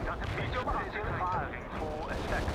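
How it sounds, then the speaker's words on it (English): Artillery barrages in the real-time strategy game World in Conflict: Soviet Assault rumble and crash continuously in dense, mid-distance bursts, with a voice talking over the battle throughout. "everyone that is artillery is going to shoot the same target"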